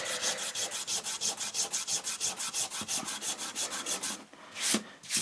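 A rust eraser rubs back and forth across a diamond sharpening plate in quick, even strokes, a close, rhythmic scratchy rasp that pauses briefly near the end before one last stroke.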